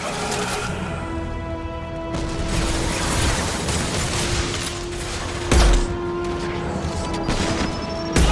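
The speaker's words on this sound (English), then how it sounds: "Taking heavy fire! Take cover." Heavy gunfire fills a firefight in the video game Mass Effect 2, a dense, continuous barrage with crashes and a sharp impact, set against a steady mechanical hum.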